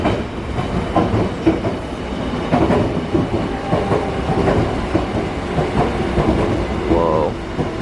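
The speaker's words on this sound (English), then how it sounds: "Here comes some of the older stock on the Seoul Metro." Older-stock Seoul Metro train pulling into a station, wheels clattering and rumbling with brake squeals and clicks over a busy, steady rail din.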